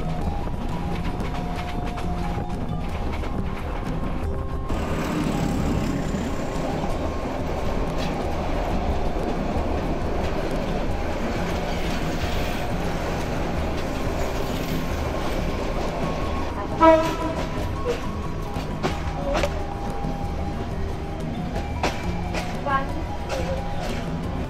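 A passenger train running from Chittagong to Dhaka rumbles and clatters steadily from inside a carriage, with the horn sounding partway through and passengers talking under the noise.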